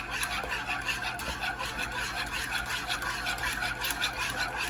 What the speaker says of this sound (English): You just want to keep stirring this in, whisking it in.